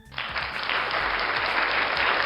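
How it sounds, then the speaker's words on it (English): An audience at a late-night improv comedy show breaks into applause, a dense, sustained clapping that swells quickly and stays loud throughout. "Round of applause for those."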